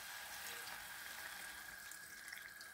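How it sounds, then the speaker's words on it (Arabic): Tap water runs into a glass, filling it halfway while pizza is made in a pan at home. A faint, steady trickle with a thin ringing tone plays alone throughout. "دونك في المرحله هذه نروح نجيب لها نص كاس تاع ما"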